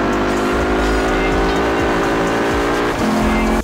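Engine roar of a car driven through the Italian countryside in the racing game Gear Club Stradale, loud and continuous with a sustained rising tone that shifts pitch once near the end.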